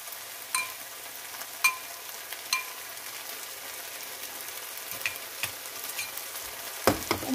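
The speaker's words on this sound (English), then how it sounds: "lay them down, spread it across the pan, just like so, and let them sear just a touch" Beef slices sear in a frying pan with a soft, even sizzle, broken by a few sharp clicks and light taps near the end.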